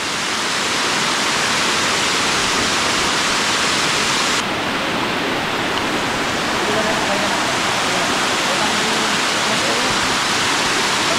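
A steady, loud rush of falling water roars continuously, a dense unbroken wash of spray close by, at Kaparkan Falls, a terraced waterfall in Tineg, Abra, Philippines.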